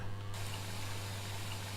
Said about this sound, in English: We'll put some water in here.